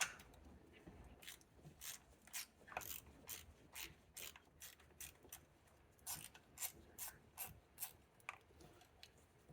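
Ratchet wrench loosening the 10 mm bolt on the 12-volt battery bracket of a 2014–2021 BMW i3, rapid bursts of faint clicking ratchet strokes repeated in a steady rhythm, quiet and close, no talk.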